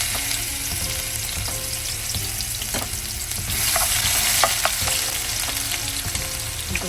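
Ginger and garlic frying in hot oil, a steady close sizzle with occasional crackles and stirring scrapes, swelling slightly midway, no talk.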